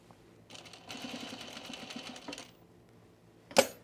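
A sewing machine stitches over a seam in a short run of about two seconds that sounds slightly labored, then stops. A sharp click or knock follows near the end, with no talk.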